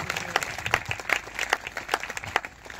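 Church congregation clapping at a Sunday prayer meeting, a loud burst of applause with sharp, uneven claps filling the whole stretch.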